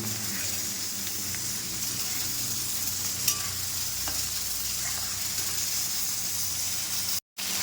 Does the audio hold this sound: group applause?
no